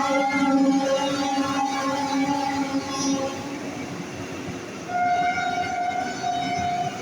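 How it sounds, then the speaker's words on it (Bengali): The Howrah–Kamakhya Vande Bharat sleeper express rushes past Chuchura toward Bandel, a loud continuous rail rumble with sustained horn-like tones that shift pitch partway through. "Howrah Kamakhya sleeper Vande Bharat passing Chuchura."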